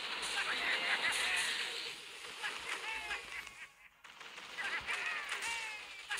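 Rapid popping and crackling bursts as flares are fired in Boom Beach Warships, repeating in quick succession over a dense, busy background of game noise.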